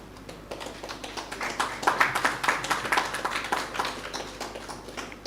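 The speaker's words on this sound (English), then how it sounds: "let's give ourselves a round of applause for that." Members at a Melbourne Cricket Club annual general meeting clap together in a hall, a moderate round of applause swelling and then tapering off over a few seconds.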